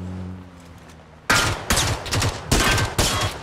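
Automatic SMG fire in PUBG comes in several loud, close bursts with short gaps between them after a quiet opening, and no talking is heard.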